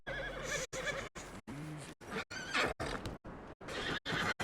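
A horse in the video game Red Dead Redemption II gives a loud, close neigh and whinny with a wavering pitch. It sounds in choppy segments broken by brief gaps.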